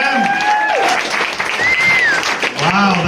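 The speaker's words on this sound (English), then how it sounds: "Big round of applause for him." A comedy-club audience applauds a first-time stand-up comedian, steady clapping filling the room while whoops and voices rise over it, loud and close throughout.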